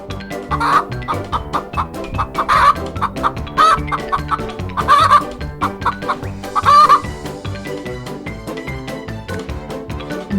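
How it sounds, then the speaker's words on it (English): Repeated clucking bursts from a chicken at regular intervals, mixed with rhythmic background music. "Chicken."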